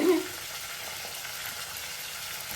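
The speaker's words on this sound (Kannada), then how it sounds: "ಆ ಬಟಾಣಿ ಸ್ವಲ್ಪ ಫ್ರೈ ಆದಾದಮೇಲೆ ಈ ಕರಿಬೇವು ಹಾಕಬೇಕು." Fresh green peas and curry leaves frying in oil, a short, even hiss of sizzling that stays steady throughout.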